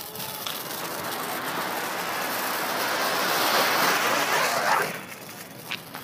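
A fountain firecracker burns during Diwali, giving a steady loud hissing roar that swells gradually for about five seconds and then cuts off sharply, followed by faint crackles.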